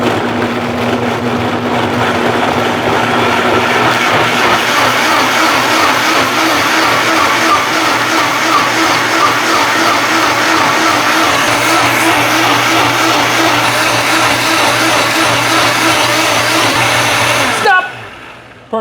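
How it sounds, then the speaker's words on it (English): A blender whirs loudly and steadily for about eighteen seconds, blending chicken tinga sauce with a constant motor drone, then winds down abruptly at the end. "we got it all blended up"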